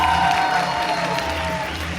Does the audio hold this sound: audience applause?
yes